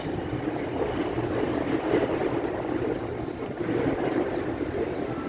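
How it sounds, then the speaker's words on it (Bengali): Strong wind blows steadily through a foggy winter scene in a dense, broadband roar that stays loud and constant throughout, with no speech over it. "কেমন বাতাস"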